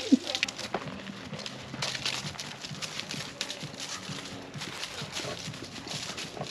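A horse walks in a damp synthetic-surface riding arena, with soft, steady hoof thuds near the listener under faint background sounds.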